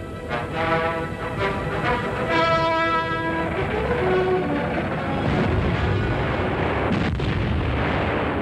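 A German F-18 field gun fires a high explosive shell, a loud heavy boom followed by a long rolling rumble and echo across a wide open space, with a whistling tone falling through it.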